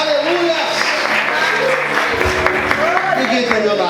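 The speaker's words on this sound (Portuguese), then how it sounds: "Você pode aplaudir Jesus nessa noite?" A church congregation applauds during a sermon, giving a moderate burst of clapping mixed with voices and cheers and a tonal background, brief and fairly close.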